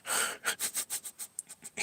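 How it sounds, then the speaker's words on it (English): A cat named Kush purring loudly through its nose, a close, rhythmic series of about ten snuffly, breathy pulses, each a short wheezing rasp, gradually softening. "Kush sounds like he's purring through his nose."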